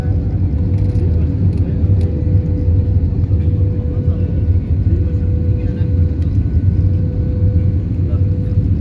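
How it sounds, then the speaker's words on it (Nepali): Airplane landing at Kathmandu under cloudy skies: a steady, loud low-frequency engine rumble and cabin roar continues throughout, with a faint tonal hum layered above. "ल्यान्डिङ हुँदैछ हाम्रो प्लेन।"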